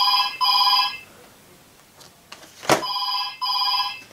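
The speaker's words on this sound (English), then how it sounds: "Oh, that's the phone." A telephone bell rings indoors in repeated double bursts of bright trilling, pausing between rings, with a sharp knock midway and no talking over it.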